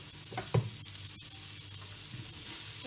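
Chicken roast sizzling softly in a pan while being stirred and mixed after salt goes in, with a gentle frying hiss, a few spoon scrapes and knocks against the pan, quiet and close.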